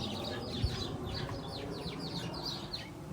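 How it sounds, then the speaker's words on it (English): Several sparrows chirp outdoors in a garden in brief, scattered high calls over a steady low rumble of background noise, with a single soft thump near the start. "More sparrows than we can count."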